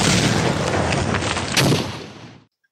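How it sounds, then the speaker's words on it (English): Explosions from a Transformers movie: a dense, loud rumbling blast with a second burst near the end, then an abrupt cutoff to silence. "Explosions everywhere."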